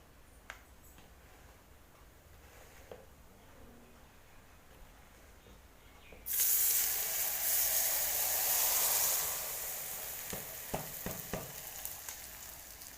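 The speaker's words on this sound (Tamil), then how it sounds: "இப்போ நான் அந்த மாங்காயில் எடுத்து இந்த எண்ணெயை ஊற்றிக்க போகிறேன்." Hot oil poured onto mixed mango pickle erupts midway into a loud, close sizzle that hisses steadily for a few seconds, then settles into a softer fizz with scattered ticks and clinks.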